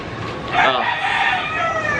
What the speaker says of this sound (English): that fucking rooster's fucking loud